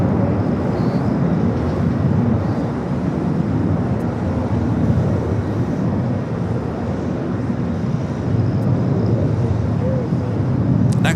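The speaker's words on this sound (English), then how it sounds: "Next takeoff here on the south side, American Airlines flight 271, heading to JFK. It's A321." An American Airlines Airbus A321 taking off from the south side runways at LAX, a loud, steady, broad jet roar sustained throughout at a moderate distance, with no talk over it.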